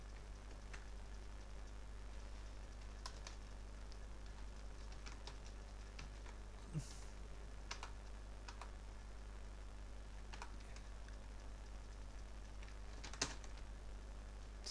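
A computer keyboard is tapped in a quiet room while a message is typed, sparse, irregular light clicks scattered over a low steady hum, with a couple of slightly sharper keystrokes standing out.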